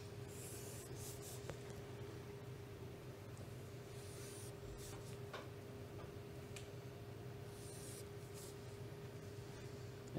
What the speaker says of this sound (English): I'm going to draw my lines